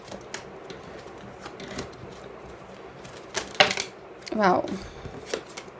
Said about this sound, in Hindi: I will shuffle and take out all the cards पहले